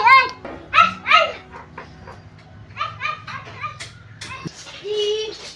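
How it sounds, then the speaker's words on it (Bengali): Dogs, a big one and a young one, bark in short bursts with yips and a whimper, close and fairly loud, separated by brief quiet gaps. "বড় কুকুর আসছে, বাচ্চা কুকুর আসছে"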